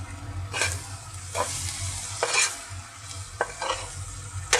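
Shallots and pepper sizzle in a hot pan while being stir-fried, with a steady frying hiss under several scraping stirs of a utensil that come at irregular intervals, close and clear.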